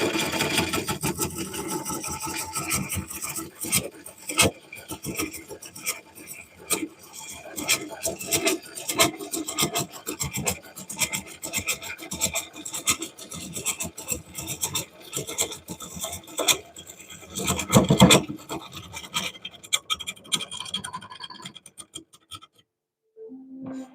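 A lathe turning tool scrapes and rattles against an oak bowl, with a continuous rasping chatter that varies in intensity, a louder burst near the end, then the cutting stops and the clip falls quiet.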